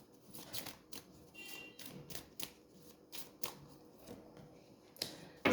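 A deck of cards shuffled in quiet, irregular bursts of soft riffling taps and flicks, close and faint, with no voices.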